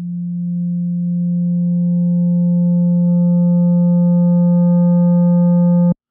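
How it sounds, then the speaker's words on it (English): A pure sine tone from a KiloHearts plugin runs steadily, loud and alone. Partway through, DC-filtered distortion brings in added harmonics above it, and then it cuts off abruptly. "If I take this DC filter and turn it on while I distort the sine wave"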